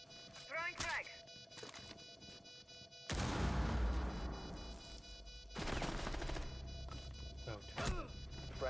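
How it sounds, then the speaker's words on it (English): A frag grenade in Rainbow Six Siege goes off with a sudden loud blast about a third of the way in, followed by rumbling debris and a second burst of heavy noise, amid game voice lines, beeps and a player's speech. "Throwing frag."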